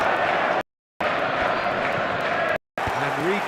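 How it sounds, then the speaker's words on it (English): Crowd noise in a football video game, a dense, loud stadium roar that holds steady, broken by two brief silent cuts, as commentators' voices carry over it. "the crowd level has gone up"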